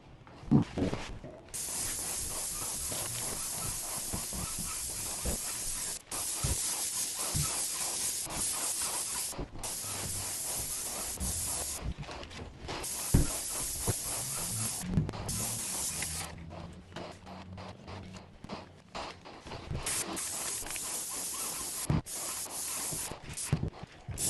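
Spray painting the outside of a chicken coop, a steady airy hiss of the sprayer running in long bursts broken by short pauses, fairly close, with no talking.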